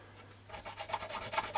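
A metal file rasps across small metal camera mounting parts for a V-Strom 1000 in a workshop, a quick series of short scraping strokes starting after a brief quiet, close and faint.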